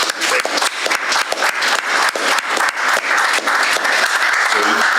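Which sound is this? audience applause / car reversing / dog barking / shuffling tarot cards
audience applause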